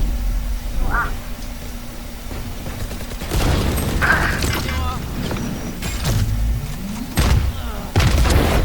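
Gunfire in the video game Valorant, played on Xbox: a few sharp, sudden shot bursts cut through steady background game noise, spaced several seconds apart.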